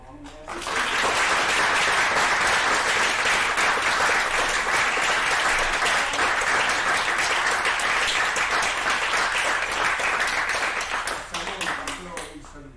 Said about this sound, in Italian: dovrebbe partire non un applausino, un applausone enorme